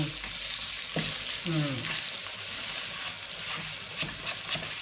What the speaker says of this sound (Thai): นี่ ี้เราก็จะผัดรวมกันเลย ให้ความร้อนเข้าเข้ากัน